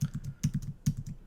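Computer keyboard keys pressed in three quick bursts of several clicks each, a Command-Z undo shortcut tapped repeatedly while editing in Premiere, close and crisp with no talk.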